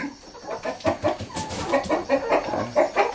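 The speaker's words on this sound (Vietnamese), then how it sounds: "Gà nhà mình đây." Domestic chickens at a Vietnamese village home, including a fighting rooster with sharp spurs, cluck repeatedly in a steady run of short, close calls with no talk.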